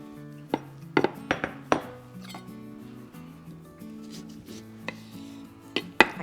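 Knife slicing fresh lemons on a cutting board, a series of sharp irregular chops and taps standing out over soft background music.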